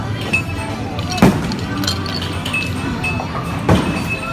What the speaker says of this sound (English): The ice machine. You put an ice cube.